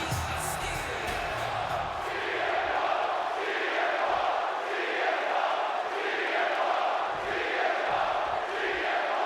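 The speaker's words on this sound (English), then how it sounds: "just listen to this crowd here in Chicago" A large Chicago arena crowd in a WWE 2K26 wrestling match roars and cheers continuously, swelling in waves of chanting and shouts at a loud, steady level.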